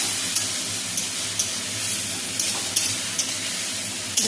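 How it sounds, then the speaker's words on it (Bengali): Ginger, garlic and chili paste sautéing in a pan gives a steady close sizzle of hot oil, with a few light clicks from stirring scattered through it and no talk. "কষিয়ে নিচ্ছি খুব সুন্দর করে, যাতে মরিচ আর রসুন থেকে যে কাঁচা গন্ধটা আছে সেটা বেরিয়ে যায়"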